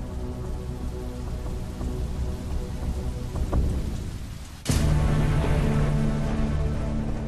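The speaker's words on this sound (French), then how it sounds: "le liquide caustique pleut sur les 4 coins du globe et ronge la végétation dans son entier" Acid rain pours steadily over the land, a dense continuous hiss of falling drops, joined midway by a sudden louder burst like a thunderclap that leaves the downpour heavier afterward.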